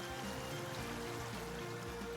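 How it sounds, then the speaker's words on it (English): Distant bubbling water in a scene from the video game Purrfect Date, a steady soft wash of trickling, stream-like sound that runs continuously with no voices over it. "There's a distant sound of bubbling water."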